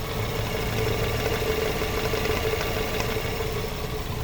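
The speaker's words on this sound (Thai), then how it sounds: "เครื่องยนต์เงียบมากนะครับลูกค้า เสียงเครื่องเดินเรียบๆนะครับ เดินเงียบๆด้วยนะครับ" A 2003 Nissan Sunny Neo with automatic transmission idles with its hood open, a steady, smooth, even engine hum held throughout with no revving.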